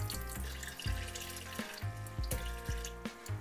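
Running water pours steadily into quinoa and buckwheat during a first rinse, a constant close splashing rush with no talking.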